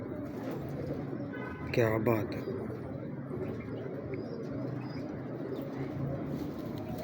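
Pigeons coo softly in a crowded space, with one clearer burst of cooing and a person speaking briefly over the steady background.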